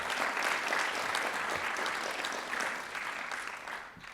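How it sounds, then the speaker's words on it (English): Dense, steady applause from an audience at an evening creative writing event at San Francisco State University, sustained throughout and tapering slightly at the end. "A round of applause for Art."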